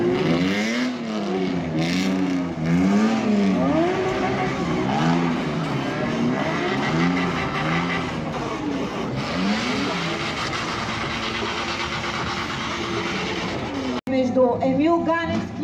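Drift cars at a Bulgarian drift championship round howl through rising and falling revs, engines wailing continuously as they slide past, with a brief break near the end before another car roars in.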